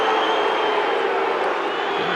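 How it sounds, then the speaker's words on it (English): Rugby league stadium crowd reacting with displeasure, a broad, continuous roar of voices and scattered whoops rolling steadily from a distance. "And the crowd not happy with a 10."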